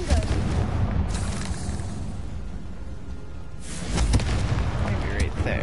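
Hogwarts Legacy Confringo fire spell exploding in bursts of booming blasts with broad rumbling noise, the loudest near the start and again toward the end, under a man's spoken words.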